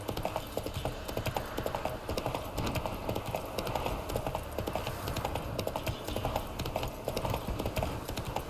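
Horse hooves clip-clopping at a steady trot in The Witcher 3, with continuous rhythmic footfalls over game ambience from start to finish.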